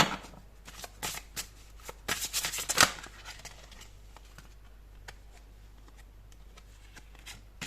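Tarot cards shuffled and handled close up, with soft rapid riffles, taps and flicks clustered in the first few seconds, then faint scattered rustling over a quiet background.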